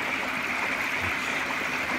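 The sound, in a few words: water flushing debris through Easy Pod pond filter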